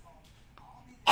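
A single sudden sneeze bursts out near the end, loud and close, following a stretch of quiet room tone with faint background voices.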